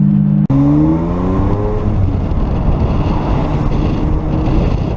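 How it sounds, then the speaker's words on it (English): A Ferrari 550 Maranello's V12 with a 6-speed manual accelerates hard: a brief cut for a gear change, then a rising, harmonic-rich engine note that builds into a loud, sustained roar. "So this is a V12 engine, 6-speed manual."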